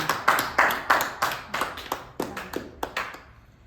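Small group clapping in a slow, rhythmic unison beat, about a dozen distinct claps that gradually fade and thin out toward the end.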